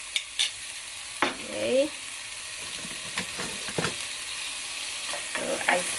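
Onion frying in a pan after garlic for a Nepali dish, steady sizzling with scraping stir strokes at uneven intervals, close up; a voice speaks briefly.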